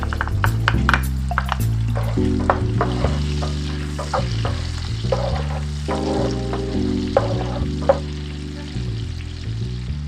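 Garlic sizzles loudly in a frying pan while cooking for Filipino-style creamy carbonara. The crackling is continuous, with scraping stirs throughout and steady tonal music in the background.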